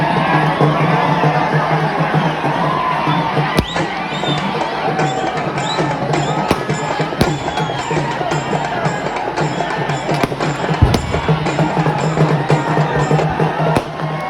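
A large crowd at an Ambedkar Jayanti celebration in Solapur cheers and shouts continuously, a loud roaring babble with sharp claps or bangs popping through, voices blending throughout.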